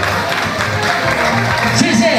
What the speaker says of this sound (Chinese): 谢谢，掌声鼓励